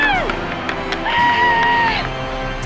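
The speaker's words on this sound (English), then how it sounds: "The crowd goes wild." A large stadium crowd in the video game MLB The Show 19 cheers and roars continuously after a home run, with whistles and shouted whoops rising above the noise.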